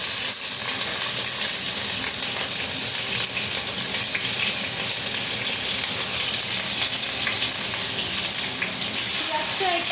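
Onions fry in a little hot oil in a wok for chilli chicken, giving a loud, steady, even sizzle that runs without a break from start to finish.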